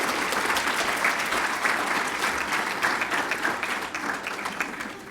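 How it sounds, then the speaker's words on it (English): Audience members at a student awards ceremony break into steady, dense applause, clapping loudly at first and then gradually tapering off toward the end. "give yourselves a big round of applause"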